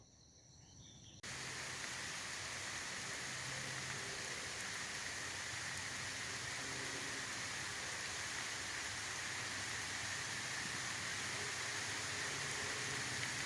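Rain falls steadily at a riverside canoe race camp, a constant soft hiss that starts abruptly after a quieter moment and stays even throughout, with faint insect-like tones mixed in.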